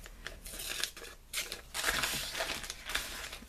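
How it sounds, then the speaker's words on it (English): Paper scissors rough-cut an appliqué shape for quilting. Close, crisp snips and crunchy cutting strokes come in uneven bursts with brief pauses between them. "Just going to rough cut this out with a pair of paper scissors."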